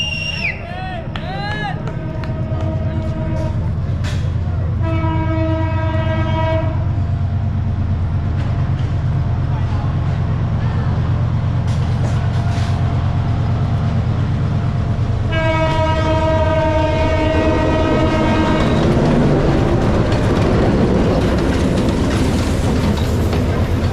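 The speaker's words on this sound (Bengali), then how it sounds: "এটি কিন্তু কোনো ট্যুরিস্ট ট্রেন নয়," A passenger train near the Nine Arch Bridge at Ella in Sri Lanka rolls past with a steady rumble and clatter of wheels, broken by two long, loud horn blasts early and again later, close and continuous throughout.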